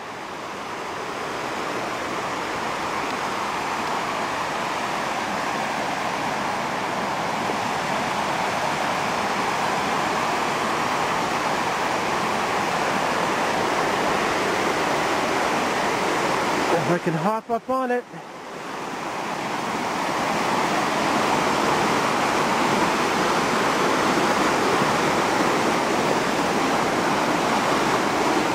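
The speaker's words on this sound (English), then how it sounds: "The beautiful waterfall." Steady rushing water from a waterfall in an old growth hemlock forest beside a lake, a loud continuous broadband roar that briefly cuts out, with a person speaking close by.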